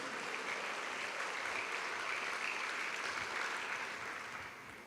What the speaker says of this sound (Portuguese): Aplauda o Senhor, dê um brado de vitória. Bem forte esse aplauso, amém?